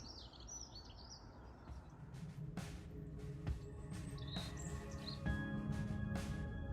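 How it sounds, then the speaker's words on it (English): Birds chirping and singing around a balcony, several high, short tweets and trills scattered over a soft background hum with faint clicks, fairly quiet and moderately distant. "most of all, you can hear the birds"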